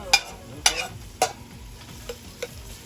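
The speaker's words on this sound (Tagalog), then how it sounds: "And then, you saute the onion." Onion being sautéed in a pan for beef afritada: a few sharp stirring scrapes and clatters over a low, steady sizzle, close up, with no talking.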